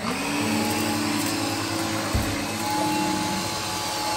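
A Gtech AirRam K9 Mk2 cordless upright vacuum cleaner runs over carpet with a steady, close, loud whirring drone and a brief bump partway through, with no voices.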